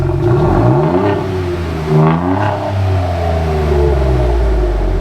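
A 6x6 truck engine revs up and down through a loud, throaty Flowmaster exhaust, the pitch climbing and falling in several close, rumbling pulls.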